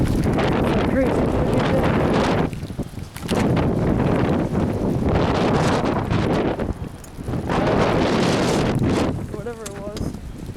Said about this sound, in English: Being wind blown from some cloud over that way.